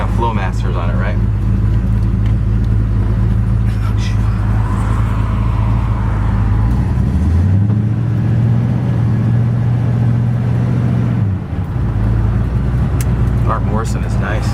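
A truck fitted with Flowmaster exhaust rumbles loudly and steadily nearby, then revs and rises in pitch partway through before dropping back, with people talking over it.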